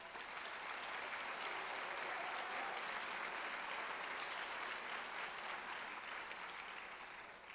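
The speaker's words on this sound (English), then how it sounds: "Please give Gary a big round of applause." Sustained audience applause at a conference opening and keynote, a dense, even wash of many hands clapping at steady loudness throughout, with no voices standing out.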